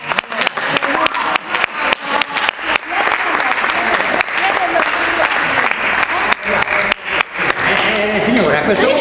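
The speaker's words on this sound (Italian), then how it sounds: "Facciamo un applauso al signor." Audience applause breaks out at a televised school-themed show, a dense wash of clapping with sharp individual claps standing out, loud and sustained throughout.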